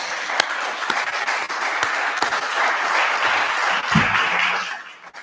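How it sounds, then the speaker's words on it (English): A forum audience applauds panelists with a steady wash of many hands clapping for several seconds before it tapers off, recorded from the room at moderate distance. "Let's give them a round of applause."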